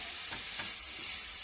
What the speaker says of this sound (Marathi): आपण याला मस्तपैकी हलवून घेऊ